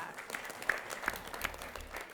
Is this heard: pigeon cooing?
no